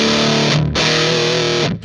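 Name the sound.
guitar distortion pedal at full gain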